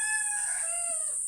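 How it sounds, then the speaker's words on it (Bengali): A village rooster crows once, a clear, fairly loud crow heard on its own. "মোরগটা শুধু ডাকতেছে বন্ধুরা"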